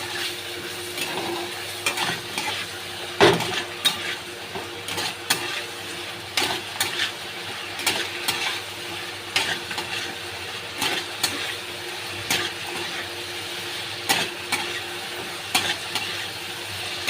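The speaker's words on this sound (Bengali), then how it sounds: "ভালো করে কষে নেব।" Potatoes with spices and a splash of water sauté in a pan: a continuous close sizzle broken by frequent rhythmic stirring scrapes and clicks of a spoon against the pan.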